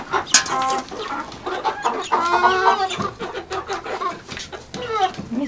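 Young two-month-old roosters and hens cluck and squawk in a busy, close chorus while pecking at grapes, with overlapping calls and short cries throughout.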